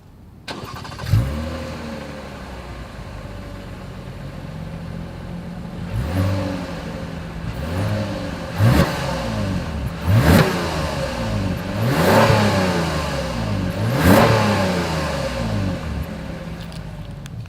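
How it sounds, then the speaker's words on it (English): A 2021 Toyota Camry V6 with dual exhaust and quad chrome tips starts up, then idles and revs several times in sharp bursts, each rev rising and falling, loud and close with no talk. "you get dual exhaust with quad chrome tips for all the V6 trims like we have right now"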